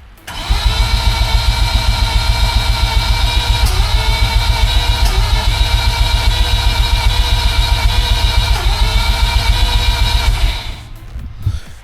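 A car engine starts with the clutch in and runs loud and rough for about ten seconds, its heavy exhaust throbbing in a steady low pulse close to the microphone, then cuts off abruptly.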